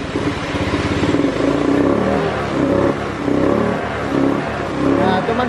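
A Honda Beat FI scooter engine with a fuel-injection fault and an unplugged EOT sensor, revved repeatedly with the throttle in uneven surges close by, with a voice speaking briefly in the background.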